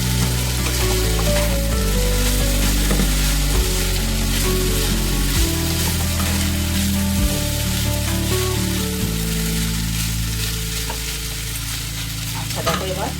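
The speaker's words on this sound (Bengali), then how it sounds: "এবার এটাকে ভালো করে মিশিয়ে নেব।" Salted boiled pasta is mixed and fried in a pan, giving a loud, continuous sizzle with steady stirring, heard close and alone over a low, sustained background hum.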